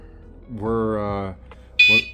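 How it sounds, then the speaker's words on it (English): A single short electronic beep from a kayak trailer alarm as it arms on locking, sharp and close, coming right after a person speaks. "it just gives you the one beep right there to let you know that it's now armed"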